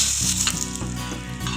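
Hot oil tempering with mustard seeds, cumin and curry leaves poured into dal for Hyderabadi dalcha, a loud close sizzle and crackle that fades slightly over a second and a half.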